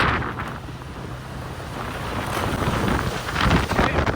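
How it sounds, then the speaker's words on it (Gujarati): Strong cyclone wind in Jamnagar buffets the microphone in loud, rising gusts and roaring rumble, with no talking, swelling toward the end. "એટલો જોરદાર પવન વાય છે, મારા હાથમાંથી ગાડીનું હેન્ડલ ફગે છે."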